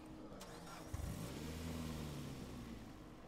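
A car engine starts in the video game State of Decay 2, cranking briefly and then settling into a steady mid-pitched running hum, fairly quiet and without talk.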